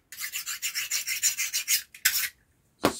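A utility knife cuts through silicone with quick, rhythmic rasping strokes, a dozen close sawing scrapes in a row, then a pause and two more short strokes, with no speech.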